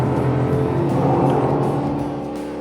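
A Ford Mustang GTD's engine revs hard close by, a loud, continuous snarl with rising pitch, then easing slightly toward the end.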